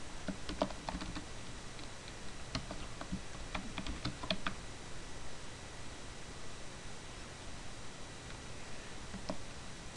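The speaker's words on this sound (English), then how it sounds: "We're going to type in Pennsylvania." Typing on a computer keyboard while entering state names into tabbed columns, with scattered bursts of quiet keystroke clicks in the first few seconds and a lone tap near the end over a steady hiss.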